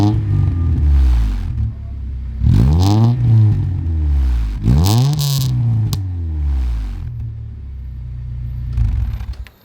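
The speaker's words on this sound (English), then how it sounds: "Let's give her a few revs on the rear." A Honda EK Civic engine, freshly fitted with a turbo kit, revs hard in several close, loud bursts, each climbing in pitch and then settling back to a rough idle between pulls.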